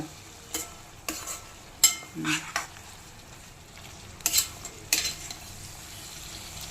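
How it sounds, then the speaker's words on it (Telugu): Fish being mixed into a chikkudukaya curry in a pan, a soft low sizzle with several sharp scraping and clinking strokes of a spoon against metal, close and fairly quiet. "చేపలు కలుపు బాగా"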